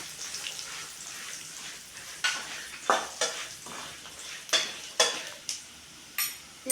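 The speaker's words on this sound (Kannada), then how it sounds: "ಅವನ್ನ ಹಾಕಿ ಫ್ರೈ ಮಾಡೋಣ." Chopped dried red chillies frying in hot oil in a pan for crispy poha, a low sizzle broken by repeated sharp spatula scrapes and clinks, close and without talk.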